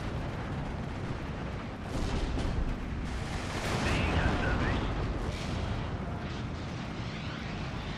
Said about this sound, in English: then I realised the Americans also had that barrage coming in